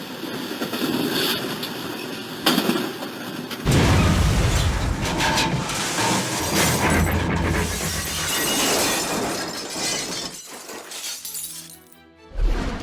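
A sudden loud blast aboard a passenger train, with shattering glass and crashing debris, followed by a long rumbling, clattering roar that fades before a final sharp impact.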